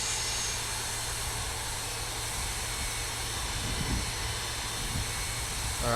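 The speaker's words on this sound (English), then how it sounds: "Sounds like a JT8." MD-80 Pratt & Whitney JT8D jet engines idling from the rear of the cabin, a steady loud whine and hiss with a low drone underneath, continuous throughout.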